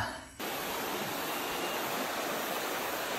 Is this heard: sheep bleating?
no